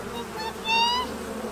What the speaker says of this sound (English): Right over my shoulder right here is where the bees are in the hive